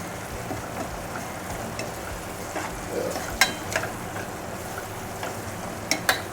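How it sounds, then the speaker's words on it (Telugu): Turmeric is stirred into tomatoes frying in a pan, a steady sizzle with soft scraping stir strokes and a few sharp clicks of the spoon against the pan. "ఇప్పుడు కొంచెం పసుపు యాడ్ చేసుకుందాం. కొంచెం పసుపు వేసుకున్నాను. ఇది ఒకసారి కలబెట్టుకుని"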